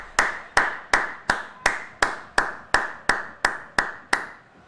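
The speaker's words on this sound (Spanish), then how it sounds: "Más aplausos." About a dozen sharp, evenly spaced claps ring out in a steady rhythm, each one loud and close with a short tail, with no voices over them.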